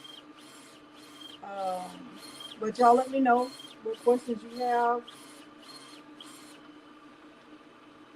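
An HTVRONT D1 DTF printer prints with a quick, regular run of mechanical clicks and pulses that stop near the end, while a person speaks briefly in the middle.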